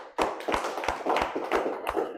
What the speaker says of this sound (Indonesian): Oke, tepuk tangan tuh Zar.